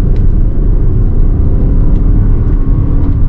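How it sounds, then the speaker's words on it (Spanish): Lexus NX 350h hybrid SUV accelerating at full throttle in Sport Plus mode, heard as a steady, loud, muffled engine and road rumble from inside the cabin, without much distinct engine note. "Aceleramos a fondo y no tenemos más sonido de motor que podríamos tener en cualquier otro coche de la competencia"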